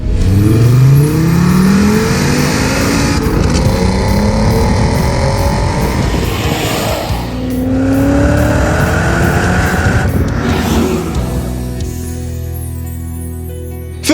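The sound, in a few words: Volkswagen VR engine car accelerating and revving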